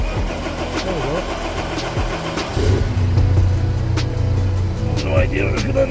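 Audi A4 engine cranking and catching, then settling into a rough, uneven idle with a deep rumble, while someone talks over it.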